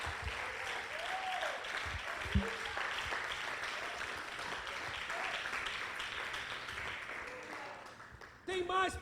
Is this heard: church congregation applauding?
yes